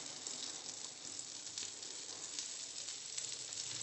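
A generous amount of butter sizzles in a hot wok over a gas flame, making a faint, even hiss that holds steady throughout.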